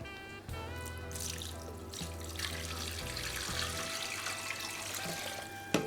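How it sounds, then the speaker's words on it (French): Broth pours into a cooking pot for boeuf à la ficelle, a steady watery stream running for several seconds under soft background music. "Là, je vais rajouter mon bouillon."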